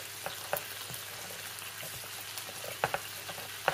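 Onions frying with shrimp in a pan, a fairly quiet, steady sizzle with scattered light spatters and a few utensil clicks near the end.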